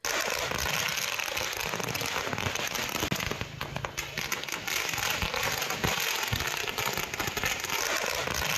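Firecrackers go off in a dense, nonstop crackling barrage as DMK party members celebrate outdoors. The popping is loud and continuous throughout.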